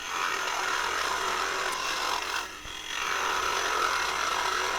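A hand tool hollows out wood for a turned ornament, making a close, continuous rasping scrape that briefly eases off midway and then resumes steadily.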